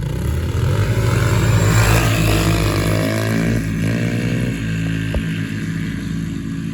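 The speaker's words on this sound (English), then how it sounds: "This brute force 750 will outrun a Polaris 1000." Engines of a 2022 Kawasaki Brute Force 750 ATV and a Polaris 1000 roar loud and close during a race start, with a steady harmonic drone whose pitch climbs and shifts as they accelerate, and no voices.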